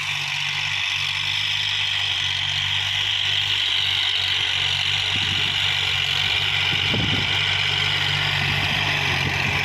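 A Kubota L3608 tractor running with a 185 cm rotary tiller churns out a steady, loud engine drone with a constant low rumble throughout, no voices present.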